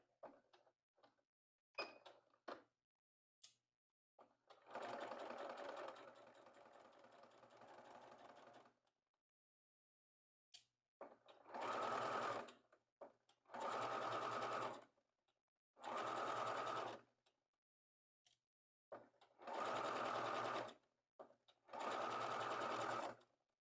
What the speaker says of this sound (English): and then edge stitch these two pieces together along this folded edge.